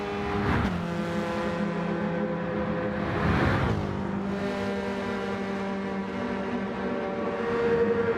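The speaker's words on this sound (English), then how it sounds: "One of my favorite cars to drive, the" A Toyota GRMN 86 race car engine in a racing video game drones and revs up and down, with a couple of sharp throttle rises and shifts, loud and close with no talking.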